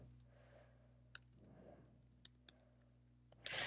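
A field label being typed on a computer keyboard while setting up a Salesforce formula field: a few sparse, quiet key clicks over a low steady hum, ending with a louder burst.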